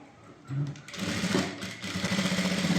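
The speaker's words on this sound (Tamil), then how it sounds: "இதுக்கு மேலே ஒரு அரை இன்ச்சுக்கு கேப் விட்டு ஒரு தையல் போடுங்க" A sewing machine stitching blouse fabric starts up and runs in a fast, close, continuous mechanical whir after a brief pause, no talking.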